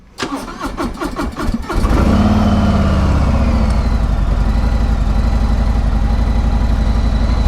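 A new Harley-Davidson motorcycle engine cranks with rapid clicking turns, catches loudly and settles into a steady, rumbling idle that stays close and continuous.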